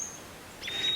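Birds chirp faintly in a short, quiet stretch, with a thin high call near the start and brighter tweets rising near the end.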